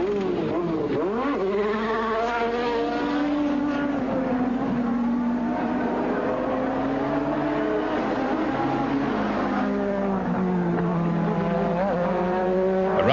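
Formula One race cars at the 1986 British Grand Prix roar past with high, wailing engine notes that rise and fall as they shift and pass, a continuous loud engine drone with overlapping cars.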